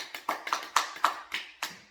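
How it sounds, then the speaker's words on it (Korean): Seven quick hand claps in an even rhythm, close and moderately loud, with no voices. "박수"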